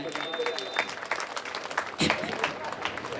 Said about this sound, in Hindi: एक बार पुनः आप जोरदार तालियां बजाएं